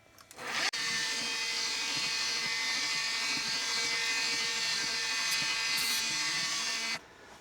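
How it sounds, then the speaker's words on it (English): A 1/16 inch drill bit spins through metal while machining a Scotty engine part, a steady high-pitched whine running continuously for about six seconds before stopping abruptly as the bit breaks through into a second hole. "we need to drill until we intersect the other hole"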